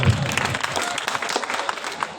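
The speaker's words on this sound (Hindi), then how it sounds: "जोरदार तालियां" The audience at a mushaira breaks into loud, dense applause. Many hands clap continuously and the crowd noise fills the room.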